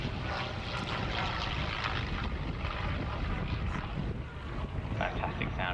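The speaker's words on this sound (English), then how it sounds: "Fantastic sound of those two heavy piston engines." A P40 Kittyhawk and a Hawker Sea Fury, heavy piston-engine warbirds, fly a display at Yeovilton Air Day, making a loud, continuous propeller roar through buffeting wind noise.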